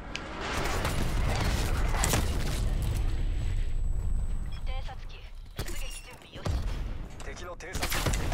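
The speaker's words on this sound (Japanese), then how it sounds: "やっぱ砲撃来た、砲撃来た。" Artillery strike in the video game Call of Duty Black Ops Cold War, a barrage of loud booming blasts and bursts of gunfire in rapid clusters, heard over game noise with a player talking excitedly.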